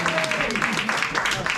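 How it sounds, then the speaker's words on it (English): An audience applauds in a steady, moderately loud wash of clapping, while a voice talks over it partway through. "Hold your applause."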